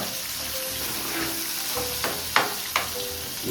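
Chopped tomatoes being stirred into a frying fish curry (chapala pulusu) in a pan, with a continuous soft sizzle and a few sharp spoon-against-pan knocks toward the end, close and with no talking.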